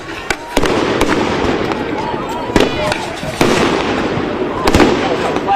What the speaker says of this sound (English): Flashbangs, it's being fired over.